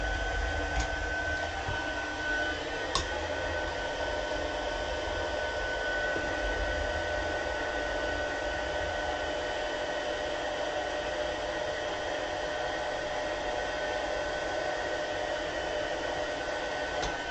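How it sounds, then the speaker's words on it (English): Heat tool blowing hot air over embossing powder, a steady close whooshing hiss with a faint tonal hum running unbroken, with a couple of tiny clicks near the start and no speech. "Move my embossing powder away from my heat tool."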